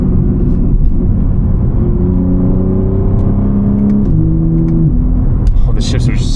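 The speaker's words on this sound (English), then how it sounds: "just an example of how quick it downshifts" BMW G80 M3 engine drones loud and close from inside the car, with rapid downshifts heard as quick steps up in pitch as revs climb between gears.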